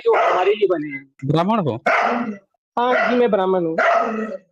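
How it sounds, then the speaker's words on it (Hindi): A dog barks in the background while people hold a conversation in the foreground, the barking repeatedly masked by their voices. "ये पीछे कुत्ता भौंक रहा है।"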